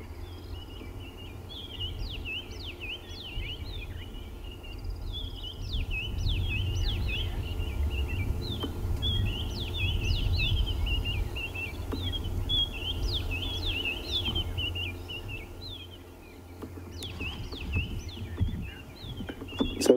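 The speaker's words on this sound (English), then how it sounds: "Julia from Houston, who's listening to all the bird calls around us at the moment." Sunrise birdsong in the Sabi Sand bush on safari: many repeated high chirps and calls at moderate distance over a steady low rumble of wind or a vehicle, with no talking.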